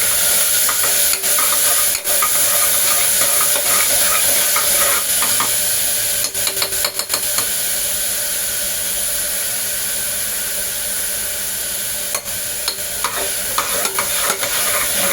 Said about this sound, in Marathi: सो आता आपल्याला हे चांगलं परतवून घ्यायचं आहे.